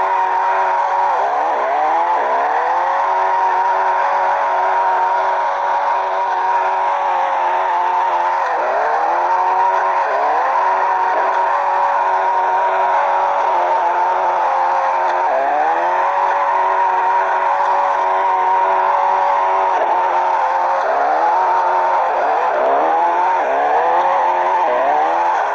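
Racing car engine in a driving game, droning loudly and continuously, with tires repeatedly squealing and skidding through the corners.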